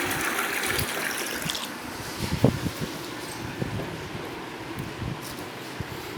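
Water being poured to change the water in a small fish tank makes a continuous, close, splashing rush with a few sharper splashes, and no one speaks.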